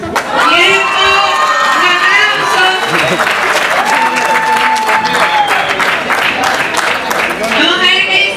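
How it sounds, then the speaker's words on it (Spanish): Crowd at a rap battle applauds, shouts and cheers loudly, with excited voices and whoops riding over continuous clapping throughout. "¡Aplausos!"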